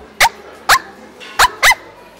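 A person imitates a dog barking, making four short, sharp yips close up in an uneven rhythm.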